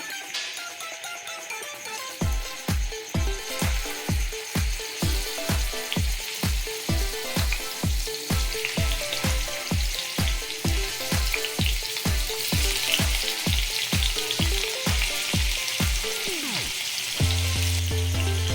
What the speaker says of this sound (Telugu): పన్నీర్ వేయించుకుందామండి.